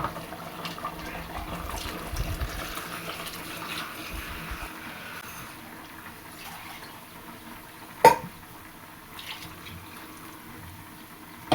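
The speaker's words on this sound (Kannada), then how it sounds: "ಕುದಿ ಬಂದಮೇಲೆ ಅದಕ್ಕೆ ನೀರು ಎಷ್ಟು ಬೇಕೋ ಅಷ್ಟು ಸೇರಿಸ್ಕೊಳ್ಳೋಣ" Water poured into mutton sambar masala in a home cooking pot gives a faint, low wet splashing in short bursts, with a single sharp clink partway through and no voices.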